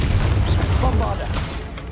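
A Bombarda blasting spell goes off in Hogwarts Legacy, a dull low boom rumbling beneath game ambience while a character's voice talks over part of it.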